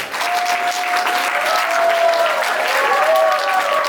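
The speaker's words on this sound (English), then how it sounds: "Please jam your hands together for Evangeline." Loud, steady applause from an event audience at a BMI Collective Resilience gathering, welcoming speaker Evangeline Chima, known as Ify, to the stage, with a dense clapping wash throughout and faint tonal whistles mixed in.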